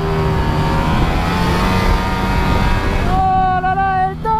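A Ducati Streetfighter V4 SP motorcycle engine revs loud and close, climbing through the gears with rising pitch, then a shift drops it to a steadier tone near the end.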